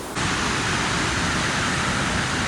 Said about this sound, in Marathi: 2 दरवाजे ओपन केले. क्रेझी भाई पाण्याचा फ्लो बघा किती आहे मजबूत एकदम.